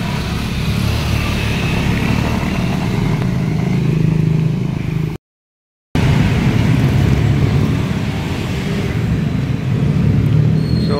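Steady road traffic on a highway where roadworks are underway: a continuous near rumble of cars and motorcycles passing, with a brief dropout midway and no talk.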